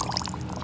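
Water poured into a blender holding scraped butternut squash flesh for curried soup, a short steady splashing pour close by with no talk.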